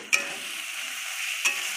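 Chicken pakora masala with cumin, coriander powder and tomato being stirred in a hot pan, a soft steady sizzle broken by two brief scraping clinks of the spoon, no voices.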